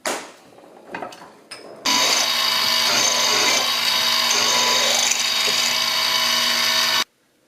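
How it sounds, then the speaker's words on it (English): A power drill whirs steadily and loudly for about five seconds, drilling a shaft hole for an instrument cluster conversion on a 1976 Mazda RX-5, after a few brief preparatory knocks, then stops abruptly. "So this is where I'm drilling for the shaft."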